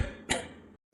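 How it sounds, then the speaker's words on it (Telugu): A single sharp cough bursts out after a short stretch of quiet, close and clear, ending in silence before a faint sound resumes. "ఎవరో దగ్గుతున్న శబ్దం వస్తుంది"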